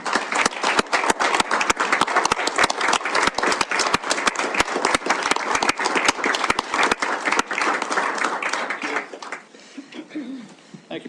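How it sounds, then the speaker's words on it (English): A council chamber crowd gives a standing ovation, dense sustained clapping from many hands filling the room for about nine seconds before tapering off, with some voices mixed in. "give a standing round of applause for Mr."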